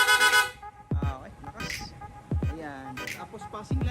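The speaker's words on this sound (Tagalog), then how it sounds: "Tapos yung rapid horn, long press lang po natin tong horn switch" Rapid horn on a Yamaha Sniper 155 motorcycle: a burst of quick, bright toots at the start, followed by someone talking over sparse horn-like chirps.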